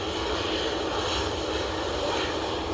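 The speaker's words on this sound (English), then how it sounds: "not too sure what this Tui is doing straight away. He was going for takeoff." Engines of a TUI airliner at Manchester airport on a cold, windy day, a steady broadband roar held at an even level throughout, with no voices.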